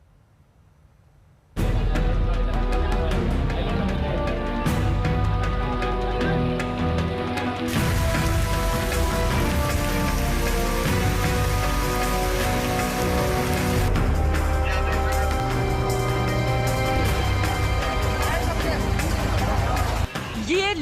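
Heavy monsoon downpour over a flooding river in West Midnapore, Bengal, a loud, dense hiss of rain beating on surfaces that starts suddenly and continues steadily, with faint crowd babble underneath.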